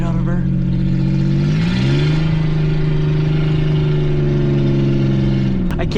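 Straight-piped Ford Ranger engine revving at partial throttle: a loud, close, low burbling drone that climbs in pitch and then holds a steady elevated rev before dropping off at the very end.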